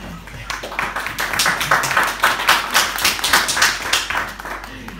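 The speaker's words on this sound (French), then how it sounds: "On peut l'applaudir bien fort" An audience applauds a performer at a French comedy and robot entertainment show, with steady close clapping and a voice talking over it.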